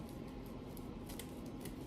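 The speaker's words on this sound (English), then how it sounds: "I'll take my scissors and I'll just cut along the top" Scissors snip through craft paper along a ruler's edge, a soft, steady crisp cutting close up and alone, with no talk.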